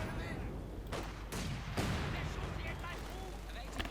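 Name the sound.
mortar fire in the video game Company of Heroes 2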